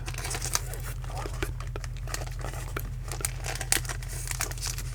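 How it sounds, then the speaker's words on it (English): Tape rips and crinkles off a plastic comic book bag, with close, soft crackling tears repeating over a steady low hum. "I ripped the tape a little bit"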